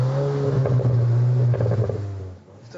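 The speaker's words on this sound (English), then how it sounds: "the quad exhausts producing the kind of exhaust note you want to hear." A 2022 Volkswagen Arteon R's 320-horsepower engine roars loudly and steadily through quad exhausts, its deep exhaust note rising as it accelerates, then easing off toward the end.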